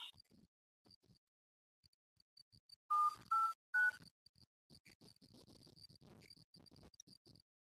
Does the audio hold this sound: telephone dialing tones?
yes